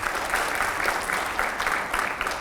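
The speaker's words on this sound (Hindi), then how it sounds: "जोरदार तालियां हुआ करें" Audience applause at a televised Hindi political interview event, a steady sustained clapping from a crowd filling the whole stretch at moderate loudness, with no speech over it.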